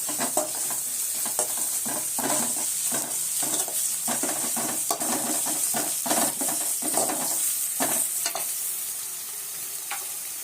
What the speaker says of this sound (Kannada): ನಂತರ ಕರಿಬೇವು ಚೆನ್ನಾಗಿ ಫ್ರೈ ಮಾಡ್ತಾರೆ